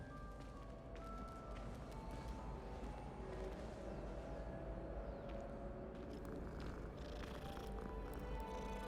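A cat purrs in the video game Hogwarts Legacy, a steady low rumbling purr with light game ambience around it, faint and continuous throughout.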